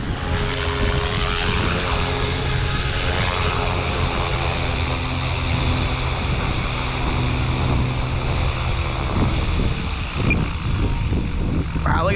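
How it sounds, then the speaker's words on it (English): Blade 500 3D RC helicopter's rotor blades spinning down in strong wind after hold mode, a steady whirring drone with tonal rotor hum that fades slightly near the end, with wind buffeting throughout. "It's pushing that helicopter as the blades spin down."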